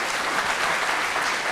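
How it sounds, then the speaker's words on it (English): An audience at a national nutrition conference gives a speaker a round of applause, dense steady clapping from many hands filling the room for a moment. "give a round applause for her"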